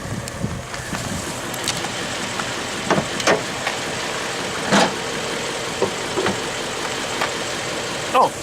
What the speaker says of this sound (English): You never get bored of the sound of this engine.